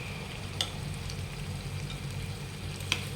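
Marinated chicken tandoori pieces fry in a pan over a high gas flame, giving a steady soft sizzle with a couple of sharp spits.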